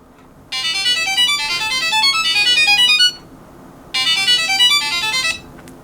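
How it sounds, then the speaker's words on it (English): A Samsung Galaxy SmartTag ringing at high volume: loud electronic tone in rapid repeating chirps, sounding for about two and a half seconds, pausing, then starting again; close and piercing. "I can demonstrate how loud the high volume is."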